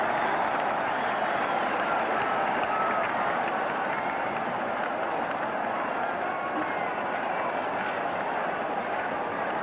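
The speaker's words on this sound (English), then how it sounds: "And so at the other end, the Wednesday crowd go mad with delight." Sheffield Wednesday supporters at a 1968 FA Cup fifth-round football match cheer a goal, a sustained, broad crowd roar with scattered clapping that holds steady throughout, heard from a distance.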